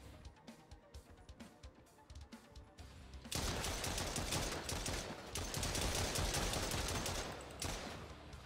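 Gunfire in Fallout 4 with the Post War Dreams mod: scattered quieter shots at first, then a loud, dense barrage of rapid firing that continues steadily to the end.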